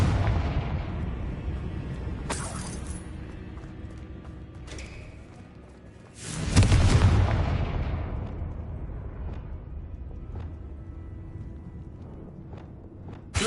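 Blasting-spell explosions go off in the video game Hogwarts Legacy. One heavy boom lands midway and two lighter bursts come earlier, each with a rumbling tail, over a low continuous background.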